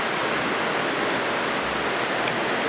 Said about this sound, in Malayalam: മഴ പെയ്തുകൊണ്ടിരിക്കുകയല്ലേ.